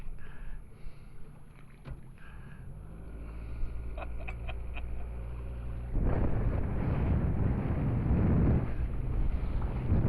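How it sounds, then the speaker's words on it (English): A small outboard motor on a little tub-like boat with three men aboard drones steadily close by, growing louder and rougher about halfway through as wind and water noise rise over it. "Motor seems to be running good"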